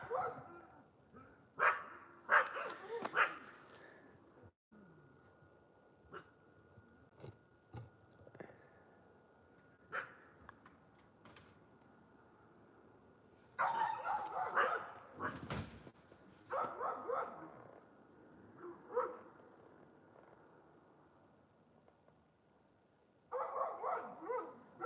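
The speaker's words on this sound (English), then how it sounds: "I don't want to have these dogs bark all night." Dogs barking at night outdoors beside cabins in Alaska, several bursts of barks and yips at mid distance, recurring in clusters with quiet gaps between and a faint whimper or two.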